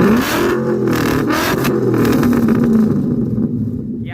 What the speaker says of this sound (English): So now listen to how this thing sounds when it's revved.